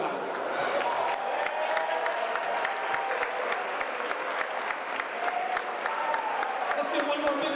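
A crowd at a high school senior night for cheerleaders and basketball players gives steady, loud applause throughout, dense clapping with some sharp individual claps standing out.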